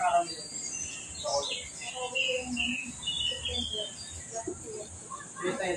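Birdsong from a foreign species held in wildlife custody in the Philippines: scattered short chirps and tweets at moderate volume, with people talking over them.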